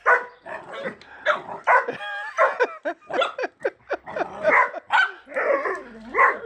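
Puppies and dogs bark and yip busily and close to the microphone, giving a rapid, chaotic run of high-pitched yelps and whimpers.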